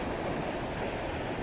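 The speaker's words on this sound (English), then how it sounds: "I want some crashing waves. See those waves in the foreground, they're lovely." Sea waves breaking on Folkestone beach in the early morning, a steady, broad wash of surf with no distinct individual crashes, fairly faint and with no voices.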